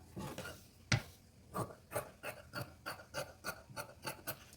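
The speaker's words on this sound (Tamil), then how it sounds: "அதே மாதிரி நெக்ஸ்ட் பக்கமும் நம்ம அதை கட் பண்ணிக்கணும்" Scissors cut through shirt collar fabric in a steady series of short crisp snips, close up, repeating at an even rhythm after one sharper opening cut.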